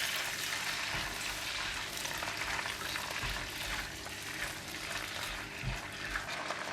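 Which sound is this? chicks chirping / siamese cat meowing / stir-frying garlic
stir-frying garlic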